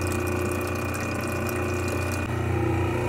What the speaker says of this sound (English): This one is so scaled up that the water's coming slow, but it's gonna start breaking it pretty soon.